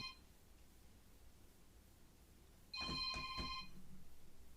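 A telephone rings once after a quiet stretch, a short electronic trilling ring with a sharp onset, fairly close and clear over faint room hiss, with no speech.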